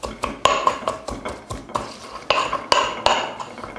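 Garlic mashed with a pestle in a mortar, a close series of sharp knocks and grinding scrapes in an uneven, steady rhythm, with no voices.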